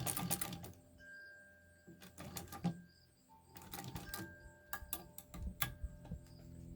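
A Singer 66 Red Eye sewing machine, turned slowly by hand on its longest stitch through eight layers of fabric, gives close, dry mechanical clicks and ticks in uneven bursts with brief quiet gaps between.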